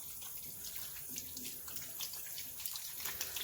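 Tap water runs steadily into a sink while soap is rinsed off hands, a constant close hiss and splash with slight fluctuations, no talking.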